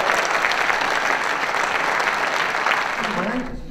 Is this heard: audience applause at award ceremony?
yes